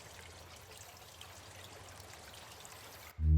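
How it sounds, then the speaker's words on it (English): Ambient rushing water in the Colossal Cave video game, a soft steady trickling flow at low level, continuous before a brief low thump at the end. "You see rushing water."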